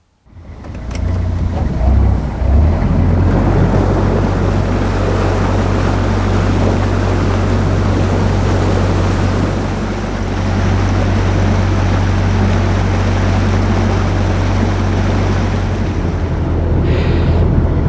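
Narrowboat cruising along the water, its engine a steady low throbbing drone under a continuous wash of water and hull noise, close and unbroken throughout.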